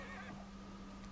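A horse in the Victorian London of Assassin's Creed Syndicate gives a short, quiet whinny, a brief wavering call over a low steady background hum.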